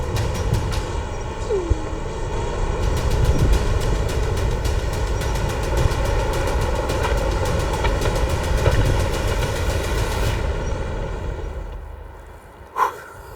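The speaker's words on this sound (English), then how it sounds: "The slab is tilted by air pressure until the concrete block goes downhill." A concrete block sliding and grinding down a slab tilted by air pressure in a rockfall experiment in the French Alps: a loud, continuous rumbling roar lasting about ten seconds that stops abruptly, followed by a sharp knock near the end.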